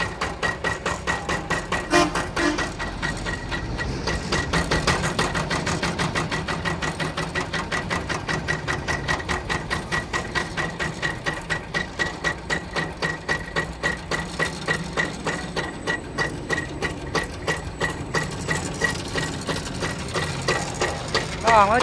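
Iseki NF90 engine running steadily nearby, a fast, even mechanical chugging with clattering pulses that continue without pause.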